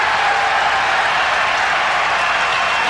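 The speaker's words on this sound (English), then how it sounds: "reaction from the crowd on that foul that was called on Cartwright" A packed basketball arena crowd reacting to a foul call during a 1992 Bulls at Pistons game, a steady wash of murmuring, jeering noise and scattered clapping that holds at an even, loud level throughout.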